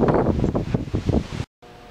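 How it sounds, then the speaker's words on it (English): Strong gusty wind blowing outdoors where motorcycle parts sit freshly primed, loud buffeting bursts hitting the microphone in uneven pulses, then a sudden cut to near silence. "Boy, that wind is blowing."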